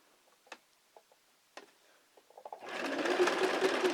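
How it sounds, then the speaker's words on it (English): Sewing machine stitching a pant cuff: a few faint clicks and taps of the presser foot being lowered, then the motor starts with a close, steady, rapid whirring stitch. "I lower the presser foot, I step on the foot pedal,"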